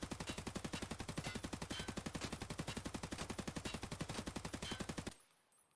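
Sustained full-auto burst from an AKS-74U with a B13 barrel fired from the hip in a video game: rapid, evenly spaced shots for about five seconds, loud and close, stopping abruptly into near silence.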